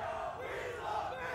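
Loud, steady roar of a live esports crowd cheering at a Super Smash Bros. Ultimate tournament, a dense sustained wash of many voices with no single speaker standing out.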